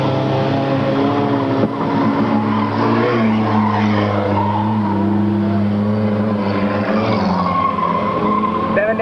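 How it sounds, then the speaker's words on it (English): Race cars roaring down the backstretch of a speedway, with dense overlapping engine tones and shifting pitches under an announcer's steady commentary. "Down the backstretch, still 67, Pat Murray, your race leader."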